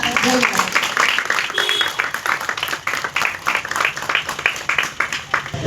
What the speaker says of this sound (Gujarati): આ ત્રણ કોકિલાવા માટે તાળી પાડો